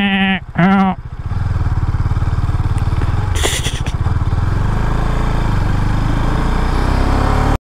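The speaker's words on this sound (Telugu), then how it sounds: "మేకలు, గోట్స్." Sheep or goats bleat twice in quick succession on a road near Gandikota, followed by the steady drone of a touring motorcycle engine carrying on underneath for the rest of the stretch.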